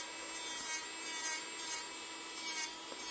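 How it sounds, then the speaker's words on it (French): Electric nail sander buffing gel polish off fingernails, a thin high whine with light rasping strokes that swell briefly every half second or so, close and fairly quiet. "Alors, attention à l'inclinaison de la ponceuse."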